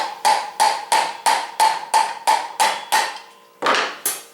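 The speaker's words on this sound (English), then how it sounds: "Take your soft blow hammer" A soft blow hammer strikes rubber parts on a shaft held loosely in a vise, delivering about a dozen sharp, evenly spaced blows at close range, then a brief pause and two more hits.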